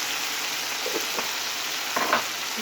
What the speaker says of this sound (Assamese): পিঁয়াজখিনি ভজা হ'ল যে বিলাহীখিনি দি ভালকৈ লৰাব লাগিব